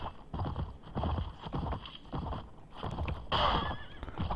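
Horse hoofbeats and a whinny from a mounted battle in the Mount & Blade video game, with clip-clopping steady through a busy mix of combat noise and a brief louder burst near the end.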